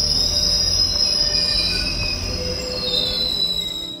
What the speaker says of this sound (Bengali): আর এটা হলো গো ট্রেন। এই ট্রেনটা 3 তলা হয়।